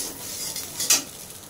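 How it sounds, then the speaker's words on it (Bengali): Noodles with egg and masala frying in a pan, stirred with a utensil, giving a soft steady sizzle with a brief scraping clink near the end. "তো ডিম ও ইপি মশলাটা দিয়ে জাস্ট আর কিছুক্ষণ একটু ভেজে নেব।"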